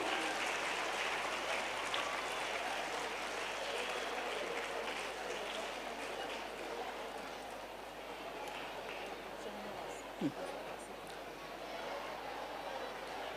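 Sustained applause at a school quiz contest prize ceremony, a steady wash of many hands clapping for a long stretch, with voices over it.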